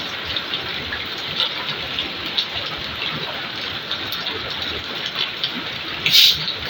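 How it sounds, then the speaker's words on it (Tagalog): Downpour of heavy rain falling without letup, a thick steady hiss of drops hammering nearby surfaces, with a brief louder splash near the end and no voices. "Dito masyado na ulan."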